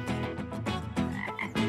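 Australian green tree frog (White's tree frog), about 10 cm long, giving a run of rhythmic, repeated throaty croaks, close and clear with no other sounds.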